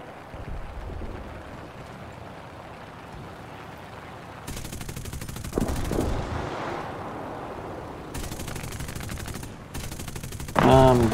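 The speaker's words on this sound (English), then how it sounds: "Alright, who's shooting at me?" Machine-gun bursts in War Thunder aerial combat, rapid rattling volleys coming in several separate bursts over a constant aircraft engine drone, loud and close.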